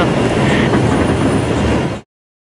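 Loud, rushing rumble of a New York City 6 subway train at 33rd Street station, steady and close, cutting off abruptly after about two seconds.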